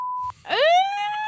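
A steady, loud, pure-tone censor beep lasts about a third of a second, then after a brief gap a bright tone sweeps upward and holds, standing alone without voices.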